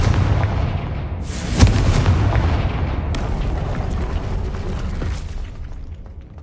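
A Confringo fire spell explodes in Hogwarts Legacy with a sharp boom and rumbling blast that rolls on and fades, followed by a second, softer burst.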